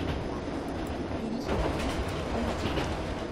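A Seoul Line 1 commuter train with modified resistance control, running in the OpenBVE train simulator, rolls toward Dobongsan station with a loud, continuous rumble and rhythmic wheel clatter, alone.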